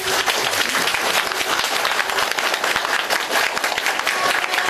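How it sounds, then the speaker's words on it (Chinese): An audience at a university talk gives loud, sustained applause, with dense clapping from many hands filling the whole clip. "将掌声献给堪布。"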